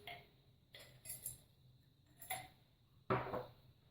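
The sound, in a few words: grating nutmeg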